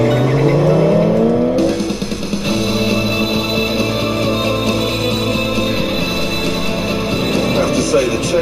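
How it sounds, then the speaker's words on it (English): A Ferrari 575 with an upgraded exhaust revs and accelerates hard, a loud, rising multi-tone engine note shifting through gears, close and sustained, while a presenter talks over it. "You also get a new exhaust, so it sounds like a Ferrari should."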